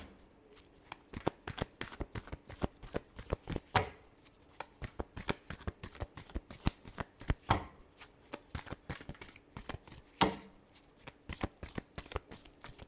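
Tarot cards shuffled by hand in a quick, steady run of crisp riffling slaps and flutters, close and fairly loud, continuing throughout with no voices.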